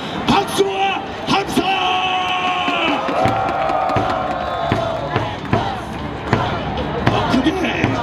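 A stadium crowd at an SSG Landers baseball game claps in rhythmic bursts and cheers, with chanting and shouting voices mixed loudly through the whole stretch.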